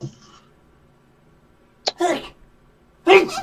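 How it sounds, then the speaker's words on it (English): Two sharp sneezes, one a little before the two-second mark and a louder one about a second later, against a quiet background. "Oh my god, I'm sneezing."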